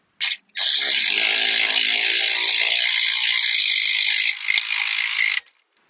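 A hand ratchet tightens the nuts on an upper ball joint of a 2004-2012 GMC Canyon, giving one long, close, fast clicking run with a brief hitch near the end.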